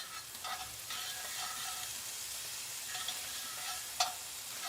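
Carrots and onions sizzle steadily in a hot pan for a sweet potato casserole, a close crackling hiss with faint stirring clicks and no talk.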